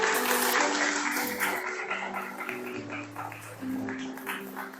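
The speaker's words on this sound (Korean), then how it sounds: "Let's give a clap." A church congregation claps together in steady, dense applause. The clapping stays close and fairly loud throughout, with no talking over it.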